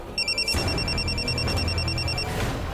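A phone rings close by with a fast, warbling electronic trill that repeats for about two seconds, over a low rumbling background.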